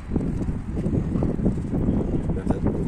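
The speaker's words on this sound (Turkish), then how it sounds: "Rüzgar çıktı. Rüzgar bir çoğalıyor. Bir azalıyor." Wind gusts buffet a rooftop in a low, rumbling roar that swells and eases, loud and close against the microphone.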